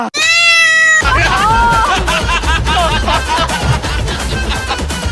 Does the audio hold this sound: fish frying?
no